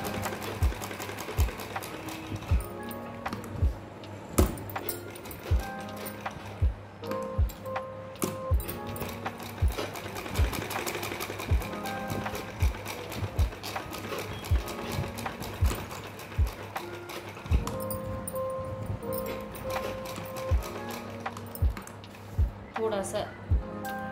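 Sewing machine stitching a sleeve design onto buckram, running in rapid rhythmic bursts with clicking mechanism sounds and a steady hum, close by, with someone speaking over it.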